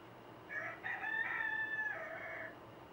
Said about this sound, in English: my rooster is Nick. He's probably needing some food